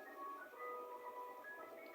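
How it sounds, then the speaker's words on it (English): An ice cream truck jingle plays outside, a faint tinkling electronic melody of sustained tones drifting in from a distance. "And there goes the ice cream truck."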